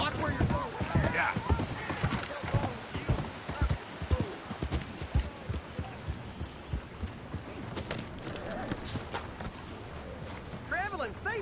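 Steady horse hooves clip-clopping at a walking rhythm in Red Dead Redemption 2, with voices talking over them and a whinny near the end.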